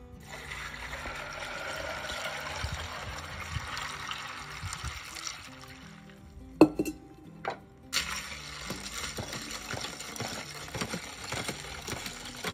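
Water poured over ice into a jug of sweetened lemon drink, a steady trickling stream for several seconds, then a short gap, a couple of sharp clinks, and more gentle pouring and splashing, fairly quiet and close.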